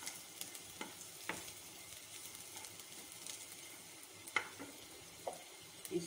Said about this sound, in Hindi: इस प्याज को जब नरम हो जाए तब तक इसको पकाना है